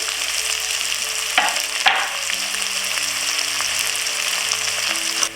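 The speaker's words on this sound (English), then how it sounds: "Now that the cumin is fragrant, I've added in the onion." Onion frying in a pot of hot oil with whole cumin (geera) sizzles steadily and close, with a couple of sharp stirring scrapes and clinks partway through; no one speaks.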